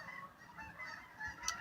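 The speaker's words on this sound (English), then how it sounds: "honk honk honk, those silly geese" Geese honking, a few short nasal honks at low level over faint background noise, with a sharper call near the end.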